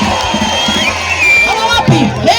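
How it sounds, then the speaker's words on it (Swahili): Audience in a hall breaks into cheering and clapping on cue, a loud crowd roar with whoops that swells toward the end, with voices mixed through it. "hebu mpigieni kwanza makofi"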